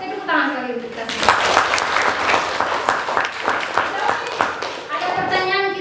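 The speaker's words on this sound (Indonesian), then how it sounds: "tepuk tangan sekali untuk kita semua" A group in a classroom claps hands together for a few seconds, with distinct claps at first that merge into brisk, fairly close applause, then fade as a voice speaks at the start and end.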